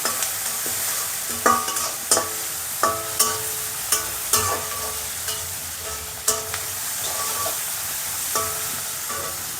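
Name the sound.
carrot rice mixture frying in a pan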